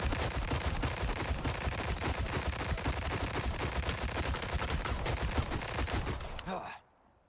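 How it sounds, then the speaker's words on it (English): Rapid pistol fire from a stock-fitted handgun in Resident Evil 4 Remake, a fast, dense volley of close shots sustained for several seconds, then cut off abruptly into near silence at the end. "I've emptied my entire clip in a matter of seconds because of how quickly you can just melt through the ammo with this thing."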